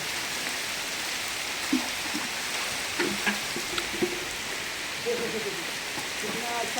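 Constant rain in Morbi, Gujarat patters and hisses in the background while faint voices and a few brief clicks sound intermittently over it.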